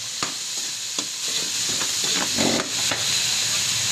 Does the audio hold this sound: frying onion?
yes